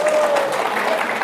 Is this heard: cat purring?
no